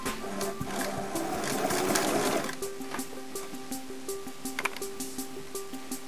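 A sewing machine runs a short burst of rapid stitching, the tight up-and-down strokes used to fasten a button, then stops and leaves a softer whirring with light clicks and a few sharp taps.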